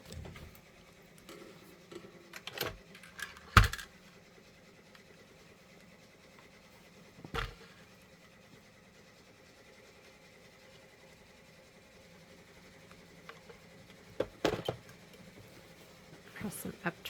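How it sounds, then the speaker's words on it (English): A multi-needle embroidery machine runs quietly at a quilting table, giving a faint, steady mechanical hum with a few sharp knocks and clunks scattered throughout. "I just went and started my multi-needle again"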